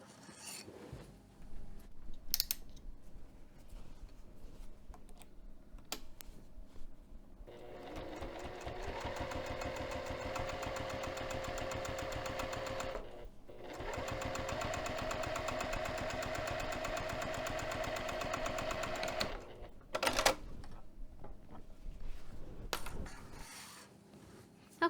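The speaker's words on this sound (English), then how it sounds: "I'm going to top stitch 1/8 of an inch away from the edge of this darker blue fabric from one end to the other" A sewing machine runs two long bursts of top stitching along the edge of blue fabric at a 3 mm stitch length, with a steady rapid mechanical whir and brief pause between runs, and quiet handling clicks around them.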